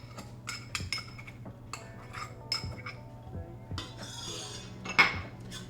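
A spoon clinks and scrapes against a bowl while vegan crab cake mixture is stirred together with fine panko breadcrumbs, giving quiet intermittent taps and a soft rubbing swish near the end.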